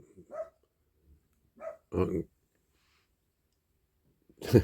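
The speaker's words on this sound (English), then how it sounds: "That's Ron barking at a bird" A dog gives several sharp, separate barks at a bird, with silent pauses between them, fairly close, ending in a louder bark.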